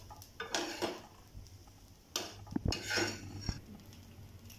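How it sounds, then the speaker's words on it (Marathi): Dried coconut being stir-roasted in a pan, with intermittent scraping and clinks of a spatula against metal, close and fairly quiet, coming in short bursts with pauses between. "1-2 मिनिटं परतली की आपलं खोबरं भाजून होईल।"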